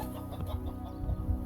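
Baby chickens clucking in a garden, a few soft, close, low clucks scattered through a brief moment with no talk.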